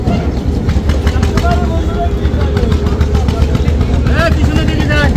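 Steady loud engine drone of a river trawler boat on a crossing near Barisal, continuous throbbing mechanical noise throughout with people talking in the background.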